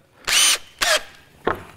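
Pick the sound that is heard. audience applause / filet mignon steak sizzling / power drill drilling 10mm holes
power drill drilling 10mm holes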